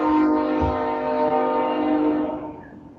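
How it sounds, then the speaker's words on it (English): A tram train sounds its horn in a loud, sustained, multi-toned blast that holds steady for nearly three seconds before tailing off, with rail rumble underneath and no talking. "That tram train gets you every time."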